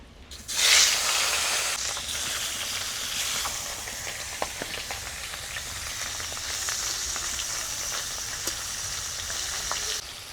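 Singhi fish, rubbed with salt and turmeric, fries in mustard oil in a wok with a loud initial hiss that settles into a continuous close sizzle, broken by occasional pops and crackles.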